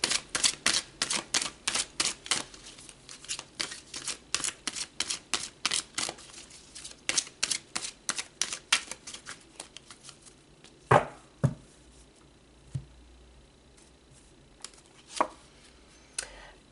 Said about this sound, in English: So let's pull some more cards and go deeper.